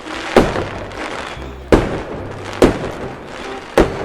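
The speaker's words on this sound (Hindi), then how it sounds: "बहुत बड़ा धमाका होता है।" Four sharp, loud firework bangs from a giant Diwali anar, spaced unevenly a second or so apart, each a broad blast that decays quickly over a low background rumble.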